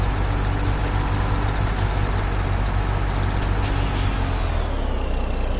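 An auto load trailer hitched to a truck in the video game Farming Simulator 17, a constant loud engine rumble with brief sharp air-brake hisses near the end.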